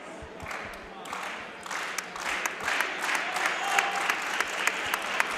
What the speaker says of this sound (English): The Broncos clapping.